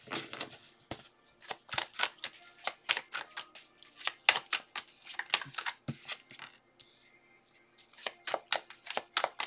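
Tarot cards are shuffled in quick riffling bursts, near and crisp, repeating rhythmically throughout with a short lull in the middle.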